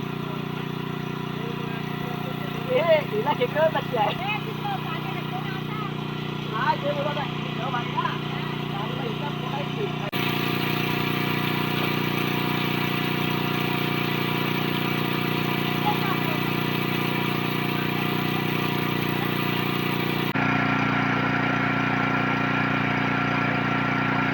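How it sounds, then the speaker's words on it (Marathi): A water pump motor hums steadily and continuously while draining a pool for fishing, as people talk intermittently over it. "त्या साईडला आपली मोटार पण चालू आहे"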